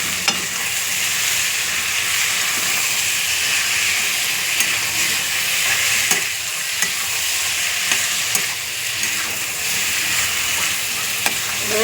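Mutton frying in oil with a few green chillies gives off a loud, steady sizzle and hiss. A utensil scrapes and stirs through the pan at intervals, close up, and no one talks.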